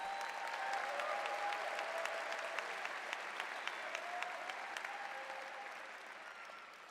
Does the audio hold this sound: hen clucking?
no